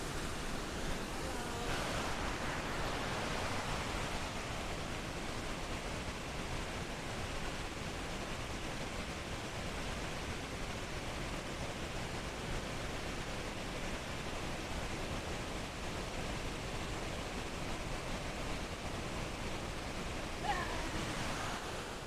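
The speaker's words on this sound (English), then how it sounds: "Check out this waterfall from down here." McDowell Creek waterfall in Oregon roars as a steady, dense rush of falling water heard from below, loud and unbroken with no talk.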